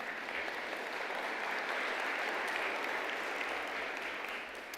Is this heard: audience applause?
yes